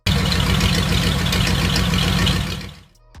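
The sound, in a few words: Ford flathead engine starting up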